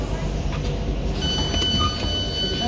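A Tyne and Wear Metro train stands at the platform of North Shields station, a low rumbling hum with faint clicks and door-like knocks, a steady moderately loud presence with no clear voice over it.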